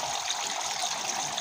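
Water gushes from two drain pipes into a freshwater lobster pond, a steady, continuous rushing splash that stays fairly loud and even throughout, with no voices over it.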